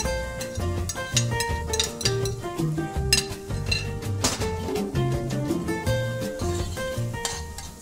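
Vegetables cook in a pan with sizzling under repeated metallic clinks and scrapes of a utensil stirring, plus a steady tonal hum in the background, close and continuous.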